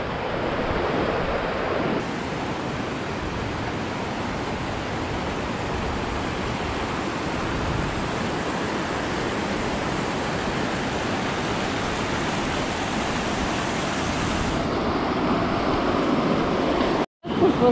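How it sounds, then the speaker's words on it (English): Clear Creek in Colorado rushes past in a steady, loud broadband roar of flowing water, close and continuous for the whole stretch, with a brief dropout near the end. "This is Clear Creek."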